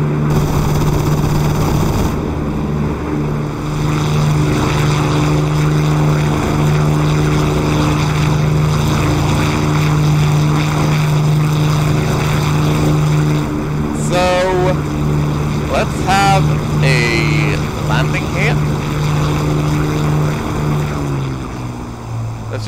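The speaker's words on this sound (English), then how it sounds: "if we go full throttle for too long, we are just going to overload the engines" De Havilland Mosquito FB VI twin engines at full throttle in the DCS flight sim: a loud, steady droning roar holding for about twenty seconds, with a brief burst of higher rattling tones near the end.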